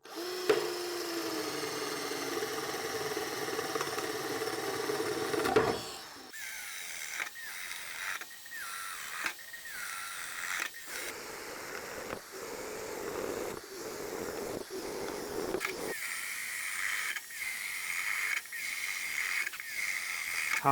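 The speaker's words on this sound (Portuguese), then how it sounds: "Vou furar com uma broca chata chinesa aqui de 16 milímetros de diâmetro, essa tábua de pinos de 2 centímetros" A Black Tools TB12A cordless drill bores into a 2 cm pine board with a 16 mm Chinese spade bit, its motor whining steadily with repeated bursts and brief pauses between holes, close and loud throughout with no talking.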